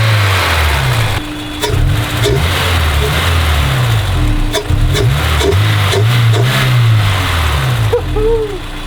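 Honda S2000 engine fitted with a K&N intake, idling and revving up repeatedly at close range with a steady mid-pitched drone and several rises in pitch, with no talking.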